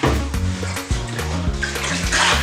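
Water runs steadily into a pot, filling it about halfway for potato fufu, a continuous gushing splash with shifting resonant tones as the level rises.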